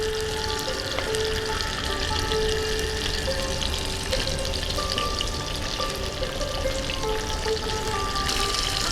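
Koi fish fry in hot oil, producing a continuous, dense sizzle and crackle that stays fairly loud and close, with faint tonal hums in the background and no talking.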